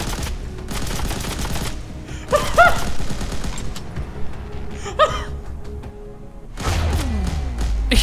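Video game gunfire crackles in rapid bursts of sharp shots mixed with gasps, thuds and other combat effects, a dense and busy stretch at moderate loudness.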